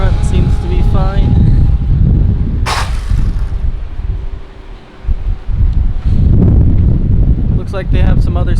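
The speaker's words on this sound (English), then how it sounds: "It's pretty windy out here." Gusty wind buffets the microphone at a roadside EV charging stop beside a Shell station, a steady broadband rush that dips midway, with faint voices near the start and end.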